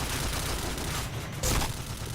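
Dense, rapid gunfire from a shooting video game, a loud continuous rattle of shots with a brief burst standing out near the end.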